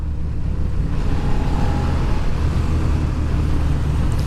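Suzuki SV650 motorcycle of about 75 horsepower being ridden, a steady low engine drone blended with heavy rushing wind noise on the microphone, constant and loud throughout with no variation.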